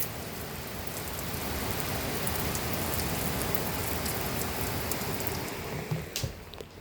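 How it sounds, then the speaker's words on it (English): Heavy rain pounding a roof during a downpour, a dense, loud, continuous hiss that holds steady before a few louder drips and knocks near the end. "the rain is so heavy right now"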